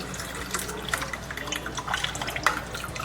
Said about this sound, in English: I'm going to take half a cup of milk.